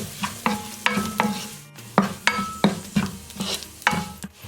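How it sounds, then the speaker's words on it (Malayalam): Chicken roll filling being stirred in a pan with chili powder, coriander powder and garam masala, giving a run of close, loud spoon scrapes in a steady rhythm over a soft sizzle, with no talking. "ഇത്രയും ചേർത്ത് നന്നായിട്ടൊന്ന് മിക്സ് ചെയ്യാം."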